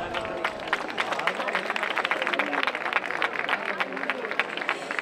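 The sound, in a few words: audience applause at carnival group presentation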